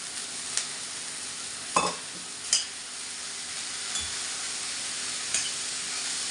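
Cumin, mustard seeds, ginger-garlic paste and curry leaves sizzle steadily in a hot pan for a vegetable dish, a continuous close fry with a few sharp stirring clinks and spatters over it.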